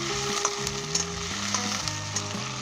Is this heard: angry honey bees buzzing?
no